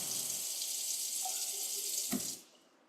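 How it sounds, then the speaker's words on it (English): A Wi-Fi connected Delta kitchen faucet runs a steady stream of water into a sink, close and continuous, with a brief clatter near the end before the flow cuts off and leaves quiet room tone. "Alexa, tell Delta to turn on the water."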